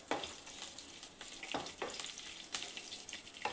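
Crushed garlic sizzles in hot oil in a pan of frying okra. It is a soft, close crackle with several short bursts of louder spatter as it is stirred.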